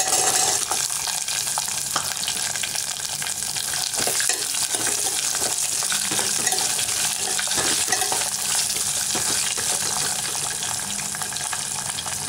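Onion and garlic frying in a pan for a tamarind gravy, a dense continuous loud sizzle with scraping stirs and clinks, close up and unbroken, with no talking.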